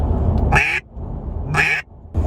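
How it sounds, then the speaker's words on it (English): Quacks from a hand-blown duck call, two loud, raspy calls each cut off sharply at the end, with a third starting as the sound ends, close and alone with no talking. "that T at the end is what cuts off the call and kind of gives that quack at the end of it"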